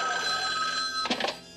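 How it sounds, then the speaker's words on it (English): A cartoon telephone rings in a short burst near the end, loud and close, after a steady tonal hum. "It's the phone. I'll get it."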